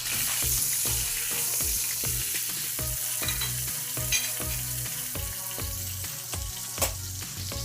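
Dalagang bukid fish fries in oil in a pan, a loud continuous sizzle and crackle with scattered pops and periodic scraping from stirring, close by and without talking.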